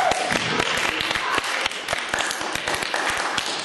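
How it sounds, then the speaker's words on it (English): A classroom audience at a school presentation breaks into applause, a burst of fairly close, uneven clapping that continues steadily to the end. "Another applause."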